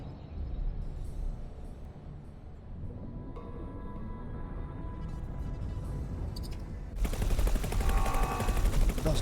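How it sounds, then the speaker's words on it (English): Laser weapons firing from a ship in the space game X4: Foundations, a sustained rapid buzzing barrage that grows denser and louder toward the end, with no voices. "Those lasers, mate."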